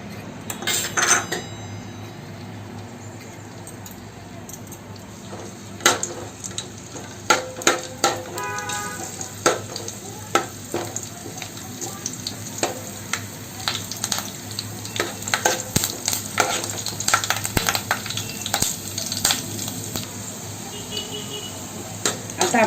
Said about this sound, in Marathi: तेल तापल्यानंतर आपण हा कढीपत्ता टाकणार आहोत फोडणीला